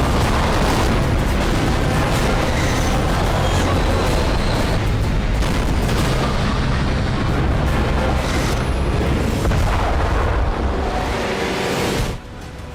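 Heavy shelling in the war zone between Armenia and Azerbaijan, with loud, dense, continuous booming and rumbling blasts. The explosions overlap one another throughout and cut off abruptly near the end.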